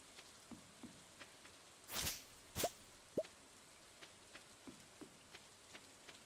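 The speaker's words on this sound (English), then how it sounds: "The rain is good" Rain falls in the farming game Stardew Valley, heard as scattered soft drops and plops against a faint, quiet background, with a couple of louder splashy bursts near the middle.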